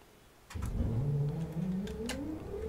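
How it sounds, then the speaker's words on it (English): A Class 67 diesel locomotive engine starts up in Train Simulator 2020. After a quiet moment it cranks into life with a rising, droning pitch that grows louder and then settles into a steady rumble. "Now we can start the engine."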